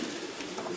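Pigeons coo softly inside a pigeon loft, a faint, brief burst of low throaty calls against a quiet background.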